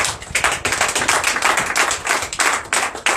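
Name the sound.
congregation clapping in acclamation to Jesus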